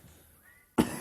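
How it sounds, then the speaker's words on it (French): A single sharp cough bursts out near the microphone after a quiet stretch during a Roblox game session, loud and breathy, trailing off within a fraction of a second. "Excusez-moi si je tousse."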